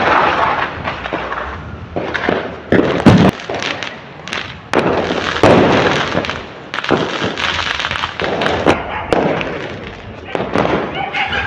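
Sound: Diwali firecrackers echoing all around

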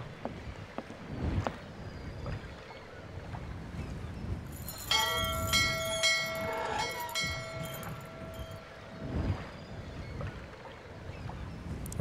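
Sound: ringing a bell for the valet in video game Syberia

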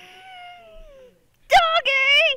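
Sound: cat meowing

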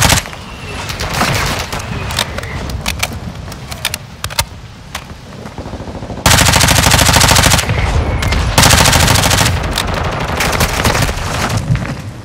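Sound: mortar strike explosions in Call of Duty Modern Warfare video game

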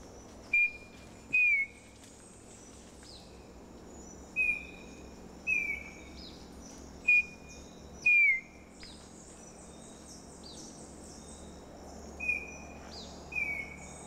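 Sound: human whistling imitating bird calls

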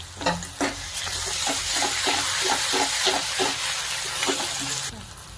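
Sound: garlic paste sautéing in pan with onion and tomato

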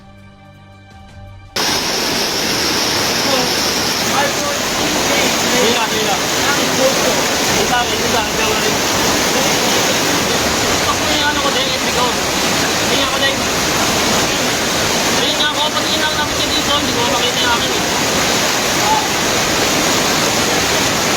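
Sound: raging floodwater of the Montalban River

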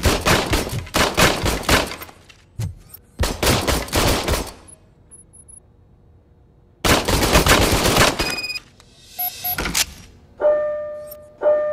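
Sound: service pistol gunfire in Robocop: Rogue City video game

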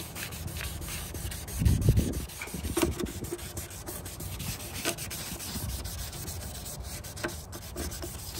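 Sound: wet sanding a car headlight lens with 1000 grit sandpaper

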